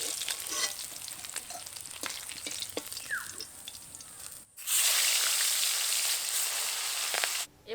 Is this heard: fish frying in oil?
yes